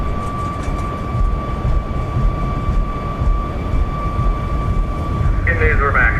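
Simulated Boeing 737 MAX 8 jet engines spool to takeoff power in X-Plane 12, a loud, steady broadband roar with sustained whining tones running throughout, and a voice briefly heard near the end.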